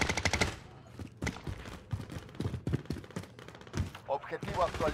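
Rapid bursts of close automatic gunfire in Call of Duty Modern Warfare, loud sharp shots in quick rattling strings with short gaps, while players talk over the shooting.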